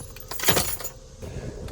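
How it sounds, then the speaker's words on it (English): Car keys dropping and jangling, a brief bright metallic rattle close by, with a faint vehicle hum underneath and no talking. "So no more dropping your keys down there."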